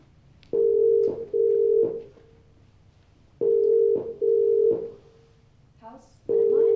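House landline telephone with a steady dial tone broken into bursts by dialing, two long tone stretches each interrupted twice, with a short voice fragment just before the tone returns at the end.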